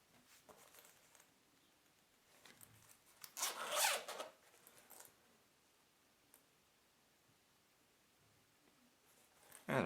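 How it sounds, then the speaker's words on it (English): A 13-inch HYZUO shockproof laptop sleeve is unzipped in one short, sharp zipper pull, close and crisp, with faint rustles and handling before and after in an otherwise quiet room. "And let's just unzip it."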